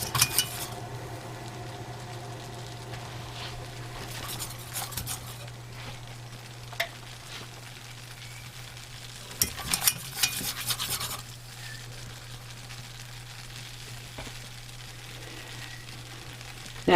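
Sauce of cinnamon, nutmeg and brown sugar for a steamed Christmas pudding is stirred in a pan over a low, steady sizzle, with a few louder clinks and scrapes of the spoon against the pan, and no talking.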